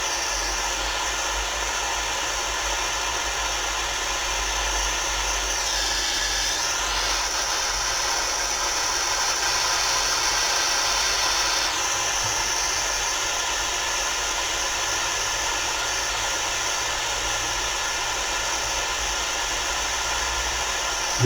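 A jeweler's torch heating a piece of jewelry before soldering, heard as a steady, loud, close roaring hiss that runs unbroken throughout with slight shifts in tone, with no talking.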